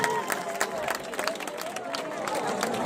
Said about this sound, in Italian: facciamo un applauso a Gianni Pirozzo, dai, un applauso, su.